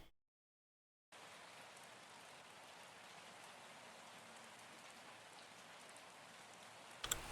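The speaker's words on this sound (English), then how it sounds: "drain pipe looping in the rain" Looping rain ASMR track of rain falling on a drain pipe, a soft steady hiss of dense raindrops starting after a second of silence and continuing evenly and quietly.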